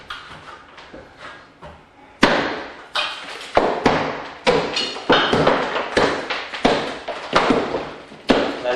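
A hammer knocks a hole wider in a ceiling while an attic stairway is being installed, giving a quick run of sharp, close thuds and cracks, with debris rattling and falling between blows.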